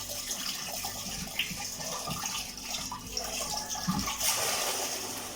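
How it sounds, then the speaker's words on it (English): Water from a bucket poured into a drain that was full of caustic soda runs down the cleared pipe, giving a steady close rushing and gurgling flow with a few splashy surges. "See the water run down there now."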